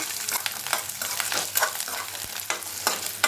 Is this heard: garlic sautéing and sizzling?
yes